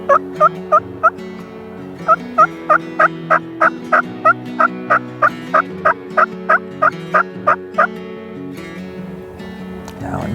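A wild turkey gobbles repeatedly from its tree roost in Wisconsin turkey season, a long run of loud, evenly spaced gobbles carrying over a steady low engine-like drone.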